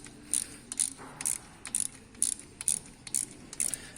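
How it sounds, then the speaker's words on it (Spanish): Small screw being backed out of a plastic anti-rotation piece that holds the hydraulic lifters on a Harley-Davidson Milwaukee Eight engine, heard as a run of quick, light ratcheting clicks in regular bursts, close and fairly quiet, with no talking. "un tornillito que vamos a sacar ahora"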